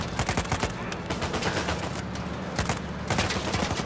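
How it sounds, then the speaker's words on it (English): Rapid gunfire bursts from the Uncharted 4 video game, dense and loud throughout, with overlapping shots and fusillade-like crackling. "Who's shooting me?"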